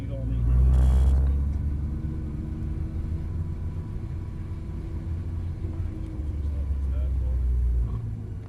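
A supercar at a race day track in York rumbles at low revs, a deep steady engine drone that swells near the start and again toward the end, with voices over it.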